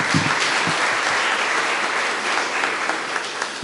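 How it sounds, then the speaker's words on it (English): Sustained, dense applause from an audience at a community center gathering with the attorney general and police commissioner, steady clapping filling the whole stretch with no talk over it. "I think we should give them a round of applause, please."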